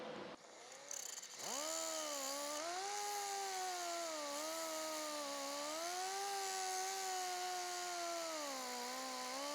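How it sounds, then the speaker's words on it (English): An angle grinder whines up to speed and runs steadily while opening up a window regulator pivot for a Porsche 356 hand-crank door, a close, loud continuous tone that wavers slightly as it bites the metal. "So I'm going to open this up with my grinder."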